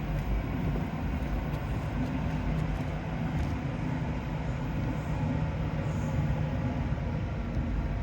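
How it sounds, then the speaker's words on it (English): A train passes near Shaldon as a continuous, heavy low rumble that holds steady throughout, with no one talking over it. "Train."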